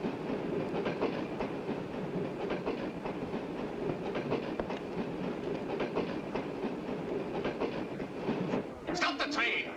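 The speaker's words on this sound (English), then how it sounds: "Stop the train!" Train running on rails in a horror film: a steady rumbling roar with rhythmic clickety-clack of wheels over rail joints, continuous and fairly close, with raised voices shouting over it near the end.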